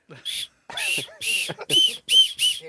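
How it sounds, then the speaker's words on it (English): A handheld safety whistle for alerting neighbors sounds a series of six short, shrill blasts close by, each separated by a brief pause. "we have little packets that have whistles and everything to alert your neighbor."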